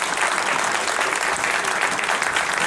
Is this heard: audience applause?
yes